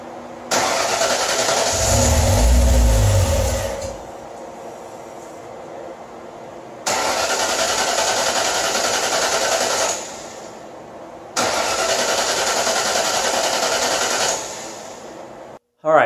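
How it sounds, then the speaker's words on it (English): A car with a relocated TFI module cranks over in three long bursts of rapid starter whirring, separated by pauses, with no clear catch into a running engine. "I've almost killed the battery on this car trying to get this thing to start."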